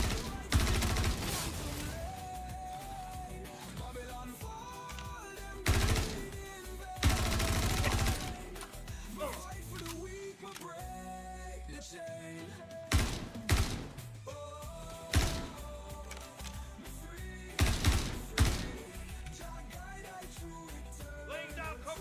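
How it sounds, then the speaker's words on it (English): Covering gunfire in a space video game shooter, with sharp bursts of automatic fire recurring every few seconds over a continuous game soundtrack. "Laying down covering fire."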